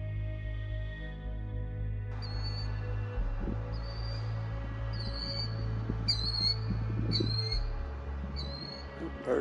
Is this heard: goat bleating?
no